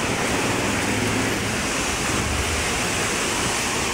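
A river flows close behind a house, producing a steady, loud broadband rush of water that never lets up.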